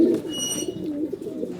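Pigeons coo in a low, throaty rolling call close by, with a brief high whistle-like tone near the start.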